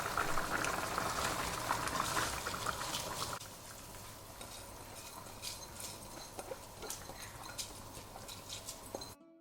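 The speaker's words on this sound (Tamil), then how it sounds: "தண்ணி நல்லா கொதிச்சதுக்கப்புறமா நம்ம அரிசி சேர்த்துக்கலாம்" Water boils vigorously in a pan on the stove before basmati rice goes in, a dense bubbling hiss that is louder at first, then settles into a quieter, steady simmer with scattered pops, with no talk.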